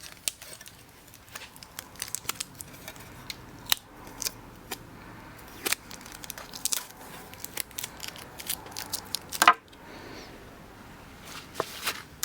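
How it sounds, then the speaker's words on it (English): Tape is pulled off a circuit board in a quiet room, with scattered sharp crackles and ripping snaps of varying strength and small handling noises between them, close up and without speech. "So I'm going to take this tape off."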